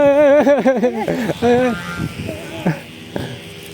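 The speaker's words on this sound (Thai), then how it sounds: "เสียงที่ทุกคนได้ยินอยู่นี้ ไม่ใช่เสียง อึ่งอ่างกลางคกนะ แต่ เป็นเสียงแอกว่าว" A humming bow on a flying kite at Samila Beach gives a wavering, bleating drone that bends up and down in pitch, then fades and sputters out.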